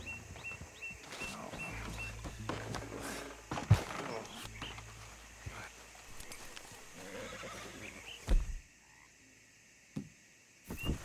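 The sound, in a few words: horse neighing in the video game Red Dead Redemption 2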